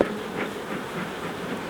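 Honey bees at a beehive hum in a dense, continuous drone, loud and close, with no voices.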